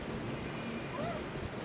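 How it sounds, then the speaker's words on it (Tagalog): Steady, loud wind buffets the microphone in a continuous rumbling roar, with faint distant sounds underneath, outdoors in Angono, Rizal. "Sobrang hangin, malamig"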